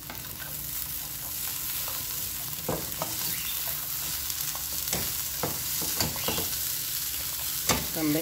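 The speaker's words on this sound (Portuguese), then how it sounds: "também dar uma fritadinha na cebola para ela murchar." Onion frying in a pan: a continuous close sizzle, broken every so often by sharp scraping clicks as the pieces are stirred, with no voices.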